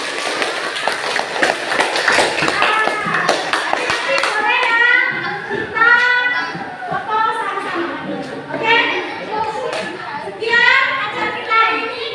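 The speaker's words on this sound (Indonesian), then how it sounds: "Oke, sekarang tepuk tangan untuk kalian." Children in a classroom clap together in sharp, quick bursts for the first few seconds, then children's chatter and voices take over with occasional taps and movement noise.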